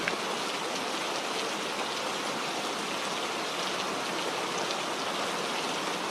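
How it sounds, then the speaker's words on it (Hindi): Heavy rain pours at night outside a lonely old hut, a dense, steady hiss of falling water that never lets up, with no voices. "बारिश बहुत तेज हो गई है"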